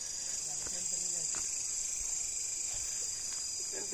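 A dense, steady high-pitched chorus of crickets fills the background at a forest campsite beside a river, with faint scattered voices and light sounds underneath.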